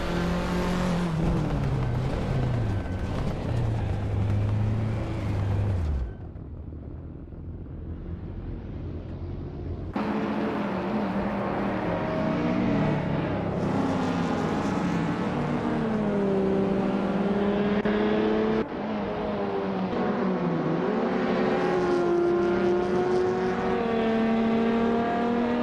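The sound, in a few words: video game race cars, 1988 Porsche 944 Turbo S racing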